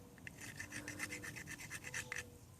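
A ferro rod scrapes against a piece of fat wood in a quick series of short, rasping strokes, faint and close, with no talking.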